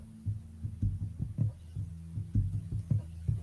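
Low, muffled heartbeat thumps pulse in a steady rhythm, each beat a soft double throb, close and alone under a faint background hum.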